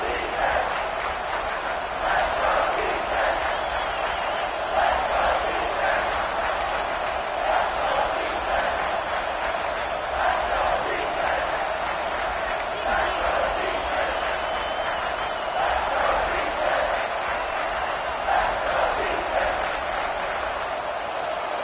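A football stadium crowd roars through a third-down red zone play. The noise is a sustained, dense wall of cheering that swells in places, with voices mixed into the din.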